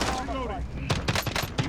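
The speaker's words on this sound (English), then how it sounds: "I'm just getting shot all over the place." Gunfire in a battle-royale style video game played on an Asus ROG Strix G15 laptop: a voice first, then several sharp, irregular shots in quick bursts that sound close.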